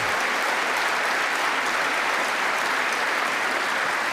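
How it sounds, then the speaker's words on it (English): Steady, dense applause from a crowd after a political speech on security and renewal, clapping evenly and continuously throughout without a break. "Delayed applause."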